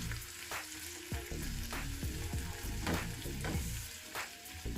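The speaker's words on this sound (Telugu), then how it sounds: "మనకి ఉల్లిపాయల ముక్కలన్నీ కూడా కొంచెం పచ్చి వాసన పోయే వరకు ఇవి ఒక 2-3 నిమిషాలు వేయించుకోవాలి." Chopped onions frying in a pan for pav bhaji: a continuous close sizzle punctuated by repeated scraping strokes of a spatula, fairly quiet overall, no voices.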